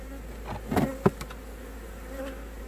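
Honeybees buzz faintly around a wooden beehive gnawed by a rat, with a low, steady hum and a couple of brief knocks near the start.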